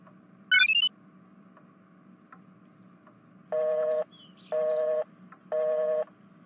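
Phone dialing: a quick rising chirp of tones, a pause, then three evenly spaced, steady beeps each lasting about half a second, clear over a faint background hum.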